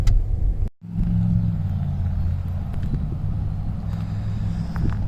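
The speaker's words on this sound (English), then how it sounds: "The cars you hear driving by are just passing through" Cars pass by on Route 66 in a small Oklahoma town, a steady low road rumble with one brief drop in sound before traffic noise resumes at a constant, moderately near level.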